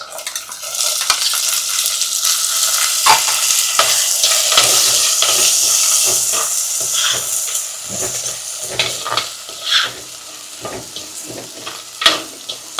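Small onions and garlic sauté in a pan for vatha kulambu, a close, steady sizzle broken by repeated scraping strokes of a spoon against the pan, the frying hiss easing slightly toward the end; nobody speaks.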